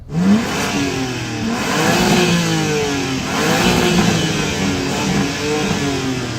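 A BMW M3 engine revs up repeatedly, rising and falling in pitch with a throaty roar, loud and close, with no talking.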